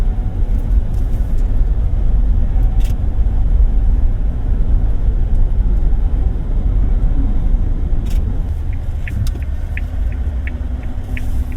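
Cabin drive in a Suzuki Jimny 5-door GLX with a 1.5 liter engine moving through city streets: a steady low engine and road rumble fills the interior, with a few faint ticking clicks near the end and no talking.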